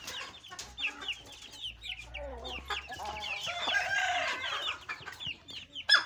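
Several chickens cluck and squawk in a farmyard, with short overlapping calls and a rooster crowing among them, close and moderately loud against quiet background.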